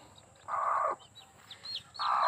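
A broody hen clucks with a couple of drawn-out calls, fairly close, over faint outdoor background and some distant bird chirps.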